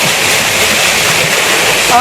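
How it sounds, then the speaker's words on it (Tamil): Heavy water pours down a waterfall at Ramiyanahalli Falls, a loud, continuous, dense roar and hiss heard from close by, steady throughout the short stretch. "தண்ணி பாருங்க எந்த அளவுக்கு கொட்டிக்கிறதுன்னு பாருங்க"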